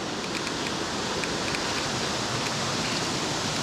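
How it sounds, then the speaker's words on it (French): Waterfall at the entrance of the Nelson Sud river, a steady broadband roar of rushing water that stays close, constant and loud throughout, with no voices over it. "la cascade du Nelson Sud."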